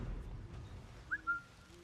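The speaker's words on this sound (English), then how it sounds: "How do we whistle?" A character in Assassin's Creed Mirage gives a short, faint two-note whistle over low game ambience, rising sharply and then holding briefly.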